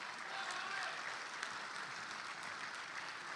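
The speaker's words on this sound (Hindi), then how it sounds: "जोरदार तालियां बजाइए" An audience at a live comedy poetry show in Dubai claps loudly and steadily for ISRO, a dense, sustained burst of applause that fills the hall, with faint crowd murmur mixed in.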